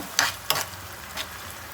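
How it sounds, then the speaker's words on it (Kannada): Ground tomato added to a hot pan for pav bhaji fries with a soft continuous sizzle, broken by a few sharp scraping stirs close by; no talking. "ಅರ್ಧ ಟೊಮ್ಯಾಟೊ ರುಬ್ಬಿಟ್ಕೊಂಡಿದ್ದೆ. ಸೊ ಅದು ಹಾಕ್ತಾ ಇದ್ದೀನಿ"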